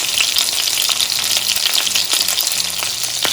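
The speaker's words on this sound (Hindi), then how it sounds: "मैं इसकी चारों साइड जो हैं फ्राई कर रही हूँ" Reshmi kebabs fry in a pan over a medium flame, giving a steady, loud, continuous sizzle with faint crackles and a few small pops scattered through it, and no voices.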